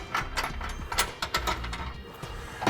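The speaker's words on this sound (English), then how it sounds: "Now we can snug up our bottom bolts." A ratchet snugs up the bottom bolts of a Curt trailer hitch receiver on a 2008 Land Rover Range Rover, giving a close series of quick metallic clicks and clatters in short irregular bursts.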